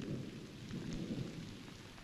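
A thunderstorm with rain gives a low, rolling rumble of thunder under a steady hiss of falling rain, continuous and fairly faint.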